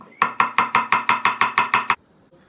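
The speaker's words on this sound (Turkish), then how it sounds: "Soğanlarımızı çok ince doğrayacağız." A knife chops onions finely on a board about ten times in a quick, even rhythm, close and crisp, then stops into near silence.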